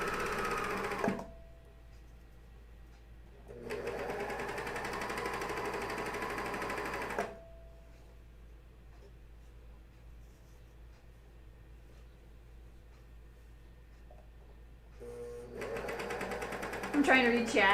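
An overlocker or coverstitch machine sews a side seam on underwear in two steady running bursts, each lasting a few seconds with a pause between, followed by a third short burst; a voice talks quietly during the gaps.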